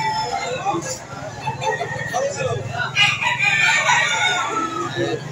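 Roosters crow repeatedly among clucking chickens at a busy poultry market in Lipa City, Batangas, several birds close by and overlapping, with people talking throughout.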